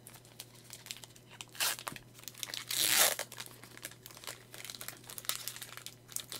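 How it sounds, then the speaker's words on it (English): Foil Pokemon card booster packs from a Celebrations Ultra Premium Collection box being torn open, with crinkling plastic and two louder ripping bursts among softer rustles, close and without talk. "I'll do that after I open up these packs"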